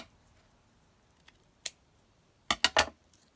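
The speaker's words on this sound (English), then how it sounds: "So if I just snip that down" Scissors snip through lace on a journal cover: one crisp isolated snip, then a quick cluster of three close, sharp cuts in an otherwise quiet room.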